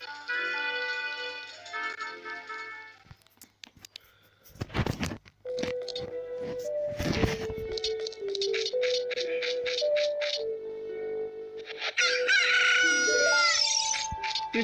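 A rooster crows in the Zelda Ocarina of Time video game, with stretched cock-a-doodle-doo calls mixed among game music and sound effects, some rattling bursts and rising melodic tones.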